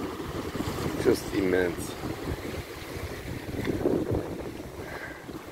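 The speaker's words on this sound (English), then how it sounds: "the waves are definitely crashing pretty good" Sea waves surge and crash against a sea wall as a low, rumbling wash under gusty wind noise, with someone talking over it.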